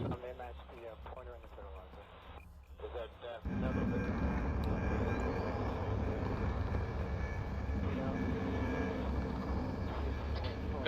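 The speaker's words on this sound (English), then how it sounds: "Got plane taking off." An aircraft takes off in a Gulf War airbase raid combat flight game; after some early voices, a loud, steady engine roar kicks in abruptly and holds at full power to the end.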